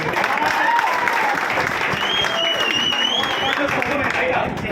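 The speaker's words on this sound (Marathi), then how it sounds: "जोरदार टाळ्या झाल्या." A large audience claps loudly and continuously at a Marathi film promotion event, a dense sustained wash of applause with faint voices and whistles rising through it.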